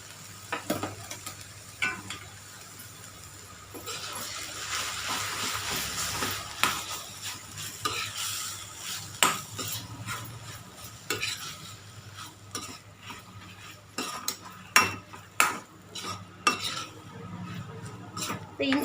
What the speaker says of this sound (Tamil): இந்த இஞ்சி பூண்டு விழுது இந்த வெங்காயத்தோடு சேர்த்து கொஞ்சம் நல்லா சிக்கனை வதக்கிக்கிங்க.